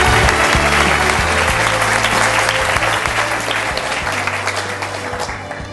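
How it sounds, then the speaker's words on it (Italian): A studio audience on a local Forlì sports TV programme applauds, a dense, loud, continuous burst of clapping that holds steady throughout and fades slightly toward the end. "E credo che questa notizia meriti un buon applauso."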